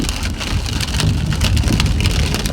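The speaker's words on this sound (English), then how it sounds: "but it's raining." Steady rain drums on the roof of a van, a dense, even patter of drops with low rumbling underneath, loud and continuous throughout.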